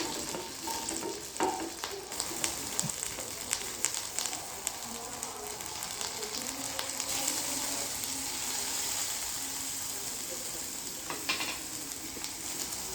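Garlic, onions and green chilies frying in hot oil in a pan for a Telugu lentil curry, giving a steady close sizzle with occasional stirring scrapes and a few louder clicks throughout.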